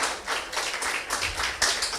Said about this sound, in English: A round of applause for Mr. Patrick.